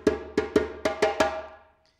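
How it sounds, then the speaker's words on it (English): A West African drum break rings out as six quick, resonant hand-drum strokes in a tight rhythmic phrase, close and fairly loud, with the last stroke decaying into silence. "probably one of the most popular breaks on the planet sounds like this"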